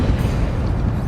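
Fire spell blast in Hogwarts Legacy on PS4 Pro, one dense, rumbling boom filling the whole moment, loud and close.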